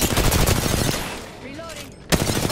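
Video game gunfire in loud rapid bursts, stopping mid-way for a quiet gap with faint effects, then resuming abruptly at full intensity.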